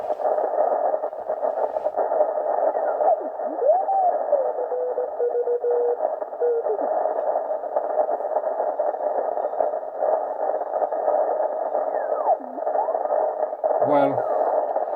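A noisy amateur radio receiver tuned to the busy 80 meter band at night, steady loud static hiss with faint drifting whistles and warbling signals throughout, no clear voices.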